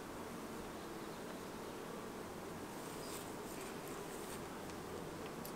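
Honey bees buzz around a frame lifted from a hive, a faint, steady droning hum with no voices over it.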